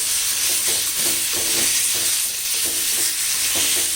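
Cooked raw banana pieces being mashed in a hot pan with tempering, a loud steady frying hiss with repeated soft pressing and scraping thuds under it.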